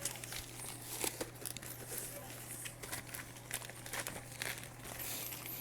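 A shipping package being taped up. Produces close crinkling and tearing bursts of tape and packaging in irregular clusters over a low steady hum.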